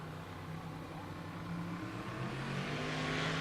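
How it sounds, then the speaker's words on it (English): Street-legal drag car launching at Pueblo Motorsports Park in Colorado, its engine roaring steadily and building in intensity as it pulls away down the strip. "Oh, listen to them tires dig."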